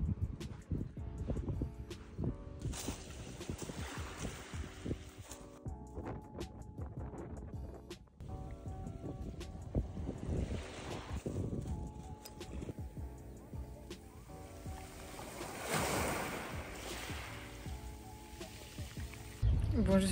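Wind and sea waves at the seaside beside restaurants: a continuous rushing roar with gusty microphone buffeting and swelling surges of surf, loud and close throughout.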